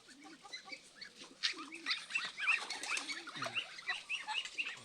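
Racing pigeon landing in a loft after a 93 km training flight, with bursts of wing flapping and fluttering amid cooing and clucking birds nearby, moderately loud and busy throughout.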